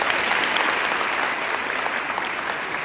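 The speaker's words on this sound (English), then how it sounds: "Now you can clap." Steady applause from a crowd at a senior awards ceremony, a dense, even clatter of many hands held at constant loudness throughout with no voices rising above it.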